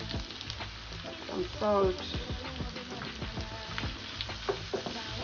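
Chilies sizzling and crackling in hot oil in a pan while cooking a mussels breakfast, a steady close frying hiss with stirring clatter, as a voice briefly speaks over it.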